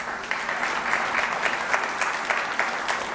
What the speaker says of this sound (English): So give a round of applause to all of them.